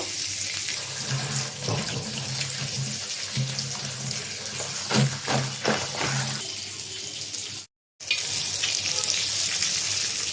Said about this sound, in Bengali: সবজিটা ধুয়ে নেব।